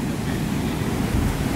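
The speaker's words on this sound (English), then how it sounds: "Can you guys hear the ocean?" Ocean waves wash against rocks at night, a steady close roar of surf mixed with gusting wind buffeting the microphone, continuous and fairly loud with no voices.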